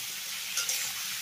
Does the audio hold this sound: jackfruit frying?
yes